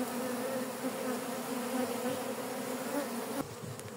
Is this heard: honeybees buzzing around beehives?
yes